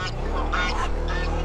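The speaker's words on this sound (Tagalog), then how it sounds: "Uy, may gansa." Goose honks ring out on Mount Ugo over a steady low engine-like hum, several nasal calls in a row.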